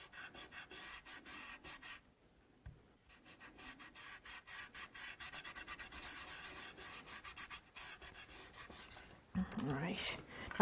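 Steady rubbing and scraping on card stock as leftover shiny finish is worked off by hand, a run of close, repeated strokes with brief pauses, ending in a louder burst of handling.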